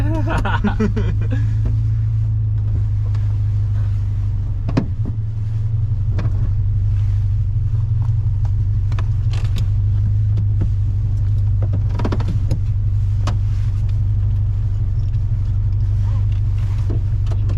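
A Toyota GT86 sports car drives along, its engine giving a steady, loud low rumble and drone from inside the cabin, with scattered thumps and small rattles.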